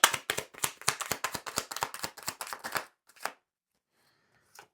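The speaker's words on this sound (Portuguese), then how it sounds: "Vamos pegar aqui 3 cartas." Tarot cards being shuffled and drawn by hand, a close run of crisp, rapid slaps and riffles in a quick rhythm that then stops, followed by one lone card snap and a faint later tap.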